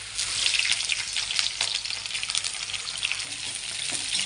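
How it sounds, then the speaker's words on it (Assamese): Diced potato, capsicum and carrot sizzle steadily in hot oil in a wok, a loud continuous hiss with faint stirring scrapes and no talk. "তেলখিনি গৰম হোৱাৰ পিছত এয়া আলু, কেপচিকাম, গাজৰ এনেকৈ পোলাও বনাবলৈ কাটি লৈছিলোঁ। সেয়া অকণমান ভাজি লৈছোঁ।"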